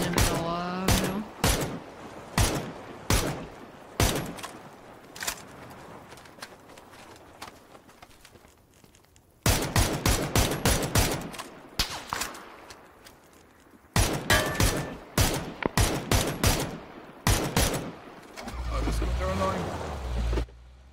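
Gunfire in the battle royale game PUBG rings out as repeated sharp shots in bursts and spaced rhythms over about twenty seconds, some bunched into fast volleys, while players talk throughout.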